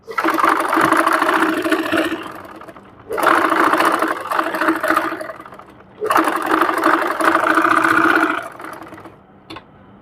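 A sewing machine stitches thin elastic onto a sleeve cuff in three loud, close bursts of rapid mechanical chatter, each lasting about two seconds, separated by short pauses, with a faint click at the end.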